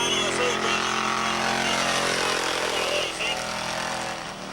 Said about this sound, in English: Keep that foot out and listen to this thing. This is what a V8 should sound like too.